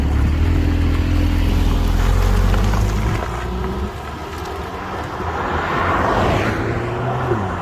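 A Lotus Emira fitted with a four-cylinder AMG engine accelerates hard, its loud, rising engine note dropping briefly around a gear change before climbing again, heard alone without talk.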